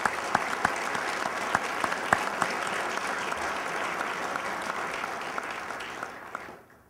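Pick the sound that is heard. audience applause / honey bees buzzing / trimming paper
audience applause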